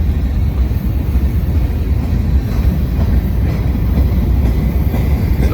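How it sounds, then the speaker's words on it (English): Loaded side dump cars carrying gravel rumble past close by on a freight train crossing a bouncy railroad bridge, a heavy, unbroken roar with steady wheel clatter throughout. "Yeah, a bunch of side dump cars coming."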